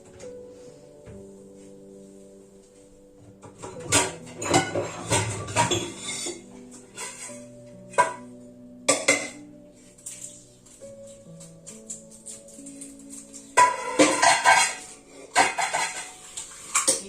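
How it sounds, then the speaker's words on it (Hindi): Metal clanks and scrapes against a new kadhai while it is being prepared: several bursts of clattering pan-and-utensil knocks, loud and close, separated by short pauses, with no voices. "मैं कढ़ाई तैयार कर रही हूँ। नई कढ़ाई है।"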